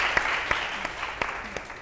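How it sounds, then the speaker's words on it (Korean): Audience at a Korean book-launch author lecture applauds, a short burst of steady clapping heard fairly faintly in a room, with a few sharper individual claps standing out. "다시 한번 뜨겁게 박수로 맞아주십시오"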